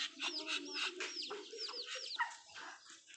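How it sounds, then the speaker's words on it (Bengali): Pet ducks calling close by in a rapid series of bright, overlapping calls, with no talking. "কত সুন্দর হাঁসগুলা"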